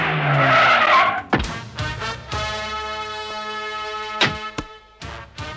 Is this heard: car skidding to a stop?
yes